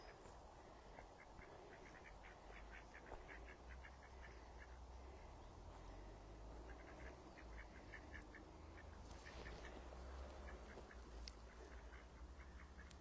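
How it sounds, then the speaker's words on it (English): Ducks quack repeatedly in bursts over a steady outdoor background hum beside a small stream on a castle estate, the calls fairly distant and overlapping throughout. "look at these ducks"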